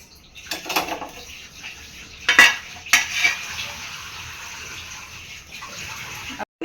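Dishes and cutlery clatter at a home kitchen sink during cleanup: scattered clinks and knocks, with two sharper clanks in the middle, over a steady wash of running water.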